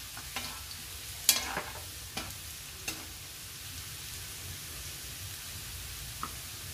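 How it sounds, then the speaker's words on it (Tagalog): Garlic sautés in a pan for chicken pastil, a soft, steady sizzle with several sharp clicks and scrapes of a utensil against the pan. "Pabanguhin muna ang ating garlic."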